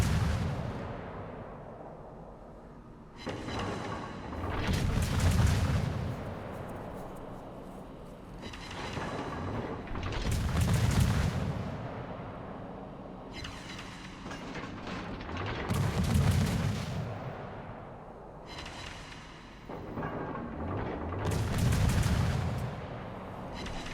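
Naval gunfire salvos from the warship Harbin in a naval battle video game: four heavy, booming volleys land roughly every five seconds, each a loud rumbling blast that swells and fades, with no talking.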